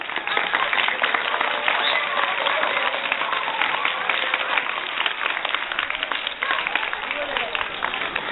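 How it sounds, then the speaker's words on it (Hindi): An audience at an outdoor yoga camp in a government middle school claps in a dense, sustained round of applause, fairly loud and continuous, with voices mixed in. "आप लोग अपने लिए एक जोरदार ताली"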